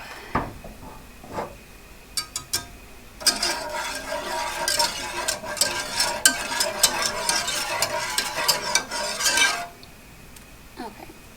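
A spatula or spoon stirs flan mixture in a pan over medium heat, giving scraping, clinking strokes that start sparse, then turn dense and continuous for several seconds before easing off.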